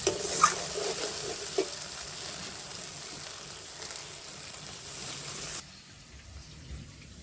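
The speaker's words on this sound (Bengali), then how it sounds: "আলুটা কষানো হয়ে গেছে এখন জল দিয়ে দেব" Water poured into a pan of frying potatoes cuts the sizzle into a steady bubbling hiss with stirring scrapes, then drops suddenly quieter near the end.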